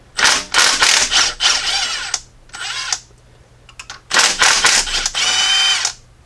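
Ratchet wrench loosening half-inch rocker bolts on a Jeep Cherokee XJ 4.0L cylinder head, heard as close, loud bursts of rapid clicking in several runs separated by short pauses.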